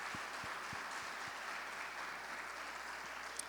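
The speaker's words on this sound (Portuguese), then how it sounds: "Agora eu queria que os homens aplaudissem as mulheres" Faint, distant applause from an audience clapping for the women, a soft, even patter that stays low and steady throughout with a few slightly sharper claps near the start.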